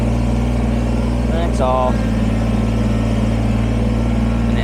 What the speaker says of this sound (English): So we're just using the weight of the tractor to flatten this out some.